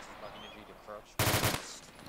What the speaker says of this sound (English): on the top of the compound, there's a dude on machine gun